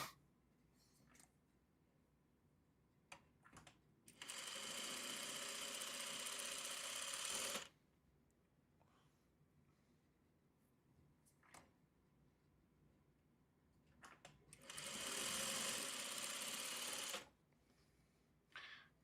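A sewing machine chain-pieces quilt pieces together, running in two steady bursts of several seconds each, with quiet handling clicks and fabric shuffling in the pauses between them.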